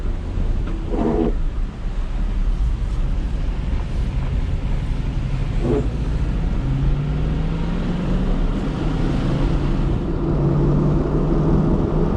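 A car with a 4L60 automatic transmission drives along a street, producing a continuous loud road and wind rumble from inside the cabin, with a faint engine tone that rises gradually; no speech.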